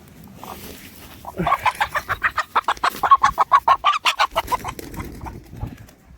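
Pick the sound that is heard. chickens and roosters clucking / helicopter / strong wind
chickens and roosters clucking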